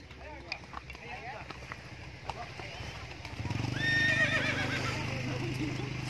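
A horse whinnies loudly partway through, with hooves clip-clopping steadily during a ride through a tea plantation at Gunung Mas, Puncak, Bogor, while a rider talks quietly.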